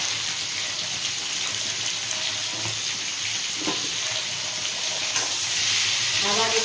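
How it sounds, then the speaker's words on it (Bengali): Mango pieces for pickle fry in a pan with salt and turmeric, giving a steady, close sizzle throughout with faint stirring and a brief clatter near the end. "আবার একটু ভেজে নেব।"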